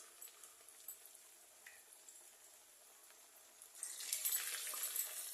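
Bottle gourd and rice flour fritters fry in oil on a low flame, giving a soft, steady sizzle that swells into a brighter, louder crackle near the end.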